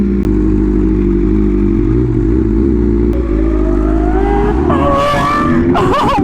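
A Lamborghini SVJ's engine roars loud and close with a steady deep drone, then rises sharply in pitch as it accelerates hard, ending in a bright high-revving wail.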